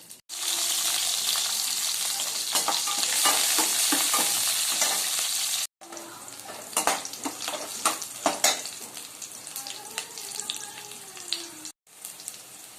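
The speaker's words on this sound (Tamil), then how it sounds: "இப்போ வெங்காயம் வதங்கிடுச்சு" Steady sizzling of onions frying in a pan, with repeated scraping and clinking as they are stirred, two brief pauses in the middle and near the end.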